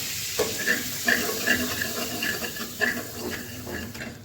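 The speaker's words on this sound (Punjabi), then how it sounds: "ਹੁਣ ਇਸ ਦੇ ਵਿੱਚ ਆਪਾਂ ਪਾਵਾਂਗੇ 1 ਟੀਸਪੂਨ ਮੈਦਾ ਇਹਨੂੰ ਹਲਕਾ ਹਲਕਾ ਭੁੰਨ ਲੈਣਾ ਆਪਾਂ ਨੇ" Flour stirred into hot melted butter in a pan on low flame, giving a soft, steady sizzle broken by repeated light scrapes of a spoon against the pan, close and fairly quiet.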